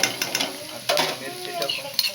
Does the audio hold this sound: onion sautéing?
yes